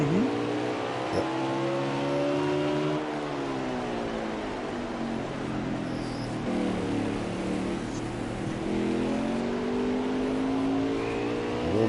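Race car at Martinsville with the driver feathering the throttle, engine pitch rising and falling repeatedly as it is eased on and off, heard steadily under the ambient track noise.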